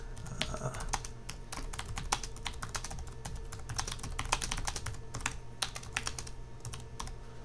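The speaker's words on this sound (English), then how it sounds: "let's just type in some text" Rapid keystrokes on a computer keyboard while text is entered into a poster tool, irregular clicks steady throughout with a faint hum beneath and no talking.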